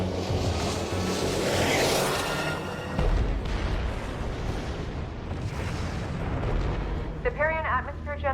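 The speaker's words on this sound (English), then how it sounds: "Target those generators with a full barrage of ground attack missiles." A barrage of ground attack missiles explodes on atmosphere generators during a sci-fi battle, producing dense, continuous rumbling blasts and booms that swell and fade, with a short tonal cry near the end.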